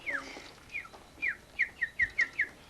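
A person whistling imitations of a swallow's chirp, a series of short, bright, descending whistled chirps, a few spaced apart at first and then five in quick succession, close and clear.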